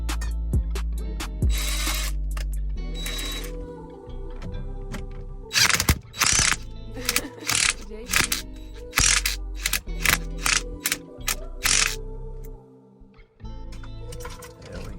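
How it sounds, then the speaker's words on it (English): A ratchet tightens the steering wheel bolt on a 10th gen Honda Civic during a carbon fiber wheel install, making loud, crisp clicking bursts separated by short pauses. "I'm about to go ahead and tighten this bolt right here."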